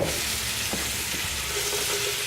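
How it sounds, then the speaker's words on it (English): A cranberry, garlic and rosemary marinade is stirred in a bowl, giving a steady close wet scraping and sloshing with soft clicks throughout, no voices. "Right, we'll give that a stir."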